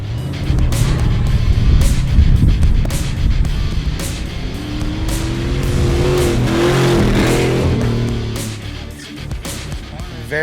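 A Ford F-150 pickup revs hard during a junkyard race run, its engine roaring loudly and steadily with rising and falling pitch over rough wind and rumble, recorded up close throughout.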